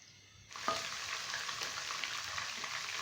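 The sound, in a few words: ginger garlic paste frying in oil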